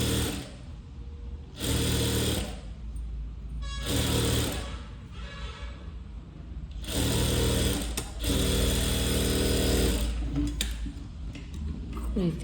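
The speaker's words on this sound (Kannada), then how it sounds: "ಈ ರೀತಿ ನೀಟಾಗಿ ಸ್ಟಿಚ್ ಹಾಕ್ಕೊಳ್ಳಿ." Sewing machine stitching the lining edge of a buff sleeve, running in several loud bursts of rapid stitching separated by short pauses, close up.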